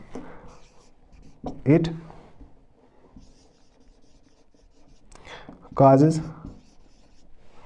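Marker or chalk scratches across a board during a class 11 biology lesson on the pituitary gland, faint and intermittent, with a teacher's voice speaking in short bursts over it.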